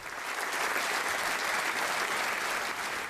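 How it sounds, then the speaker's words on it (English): Dense, steady applause fills a parliament chamber, a sustained wash of many hands clapping without pause. "Applause is against the rules, but they did it anyway."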